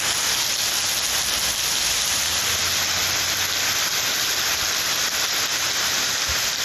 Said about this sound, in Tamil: உள்ளிட்ட இடங்களில் மழை வெளுத்து வாங்கியது